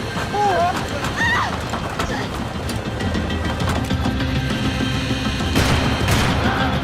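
Gunfire in the video game Max Payne 3, bursts of shots crackling through a dense, loud action mix with shouting voices and horse-like sounds layered throughout.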